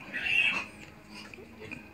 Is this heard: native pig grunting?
yes